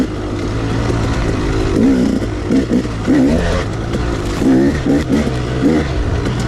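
Engine of a 2016 KTM 300 XC fuel-injected two-stroke dirt bike, loud and close throughout, rising and falling in pitch as the throttle is worked while riding.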